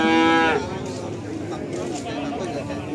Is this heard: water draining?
no